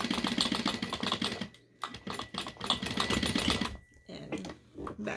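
A sewing machine stitches a fabric face mask in a run of rapid mechanical bursts with brief pauses, close and moderately loud, while a voice talks over it.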